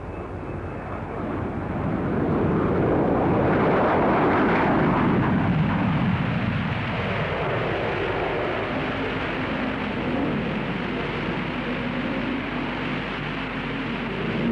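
An early British jet aircraft takes off, its engine building into a loud, broad roar that peaks and then holds as a steady, sustained rumble.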